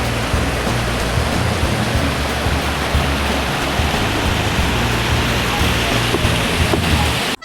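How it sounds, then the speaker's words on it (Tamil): Water pours from a village lake's overflow channel in a steady, loud, broadband rush that holds constant without pause. "பாருங்க, இது வந்து தண்ணி வந்து கம்மியாக வருது ஆக்சுவலாக இப்போ."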